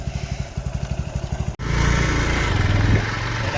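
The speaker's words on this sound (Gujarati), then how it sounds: "જોઈ શકો છો ગાઈસ અમે 4 જણા બહેન જઈએ છીએ એક બાઇક પર." A motorcycle carrying four riders putters with a steady pulsing engine beat, then a brief cut leads into a louder, smoother droning run as it rides along, close and prominent throughout.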